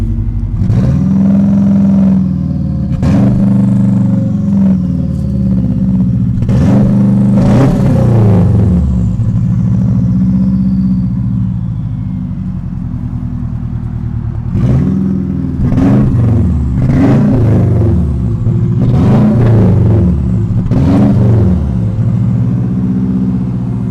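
A Subaru Legacy engine with a newly installed Walbro 255 fuel pump runs loud and close, its steady idle broken by a series of sharp throttle blips that rise and fall in quick bursts, with a short calmer stretch mid-way.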